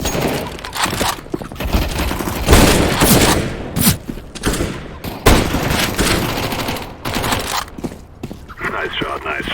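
Rapid bursts of gunfire from CS:GO in a casual match on the Cobblestone map, with dense overlapping shots and blasts that are loud and close throughout.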